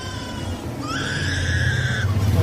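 A lyrebird mimics other sounds, giving bright, sliding whistled tones that rise and hold for about a second over a steady low rumble, fairly close and clear.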